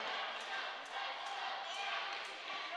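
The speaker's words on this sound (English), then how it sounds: "As you can hear the crowd just giving it to the server here" A college men's volleyball crowd, St. Clair Saints versus Durham Lords, jeers the server with a dense, continuous roar of voices and scattered whistles filling the gym.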